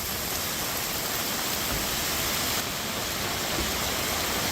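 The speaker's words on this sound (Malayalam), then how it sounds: "അത്രയും വലിയ മഴ പെയ്യുക," Heavy rain pours down in a dense, unbroken roar that holds at an even, loud level from start to finish, with no voices.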